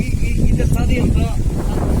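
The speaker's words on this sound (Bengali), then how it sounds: "অন্ধকার ঘনিয়ে এসেছে, বৃষ্টি আর বাতাস।" Rushing wind buffets the microphone outdoors by a river as darkness falls in rainy weather, a steady close roar with people talking over it.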